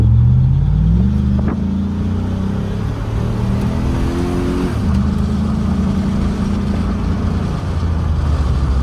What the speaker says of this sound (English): this is the first drive with the cam in, so let's see what it does.